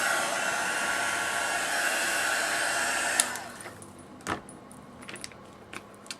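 A hair dryer blows steadily and loudly up close for about three seconds while drying a handmade Valentine's Day card, then shuts off, leaving a few light clicks and handling knocks.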